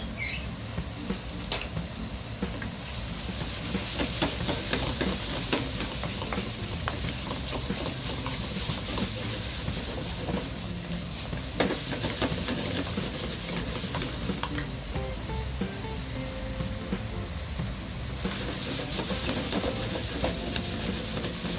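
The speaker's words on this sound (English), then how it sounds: "So heating up the pan, everything, then start saute ground meat." Ground meat sautés in a hot pan, a steady close hiss and crackle running throughout with occasional faint scrapes and ticks, with no voices.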